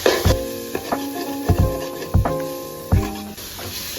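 Masala for a home-style chicken fry sautés in a pan, a spatula striking and scraping the metal pan in repeated ringing knocks about every half second over a low sizzle.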